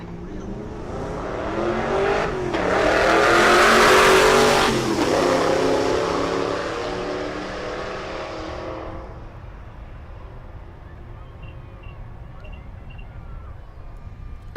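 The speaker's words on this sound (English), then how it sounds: "The LT4 supercharged Denali and the Stingray in the left lane." During a drag race, an LT4 supercharged GMC Denali and a Corvette Stingray launch and roar past with a loud engine wail that swells and then fades into distant engine noise and crowd ambience.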